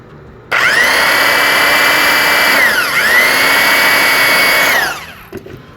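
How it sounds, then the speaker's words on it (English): A drill whirs steadily at close range for about four seconds, pitch dipping briefly midway, while boring through recycled tin can metal for pop riveting. "you put one drill, first pop rivet in where the ugly part is"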